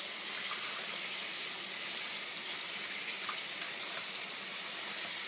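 A steady hiss of running water flows without pause, close and even, like a faucet left on.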